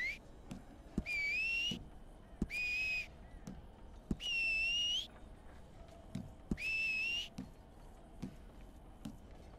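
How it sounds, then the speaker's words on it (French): Repeated whistled notes from a character in Red Dead Redemption 2 Online, four steady rising-and-falling phrases with short gaps between them, each about a second long. Faint clicks and soft background game sounds fill the pauses. "Alors maintenant il y a quoi? Sifflement."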